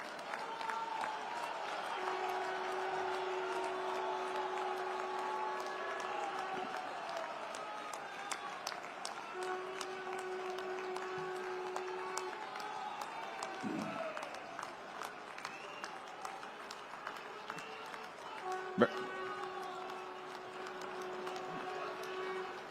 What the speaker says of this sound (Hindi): 1 मिनट तक तालियां बजाकर उनका अभिनंदन करें